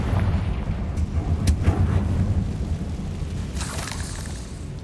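Blasting curse explosion in the Hogwarts Legacy video game, a broad rumbling boom with crackling debris sustained under low game ambience, plus a bright burst near the end.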